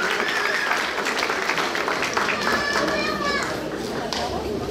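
Audience applause fills the room, a steady patter of clapping mixed with children's voices and crowd chatter, moderately loud and continuous through the short stretch.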